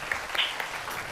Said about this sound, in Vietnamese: vỗ tay khích lệ bạn gái nè